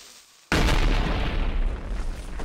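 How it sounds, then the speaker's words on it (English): An explosion in the Minecraft video game bursts in suddenly after a short quiet lead-in, a loud, broad boom that stays dense and rumbling for the remaining couple of seconds. "Ooh, I heard explosion."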